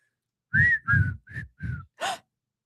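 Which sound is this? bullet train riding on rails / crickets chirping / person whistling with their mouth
person whistling with their mouth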